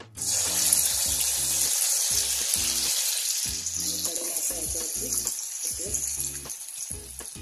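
Fasting potato vadas fry in hot oil with a loud, continuous hiss and bubbling that stays steady throughout, while faint talking runs underneath.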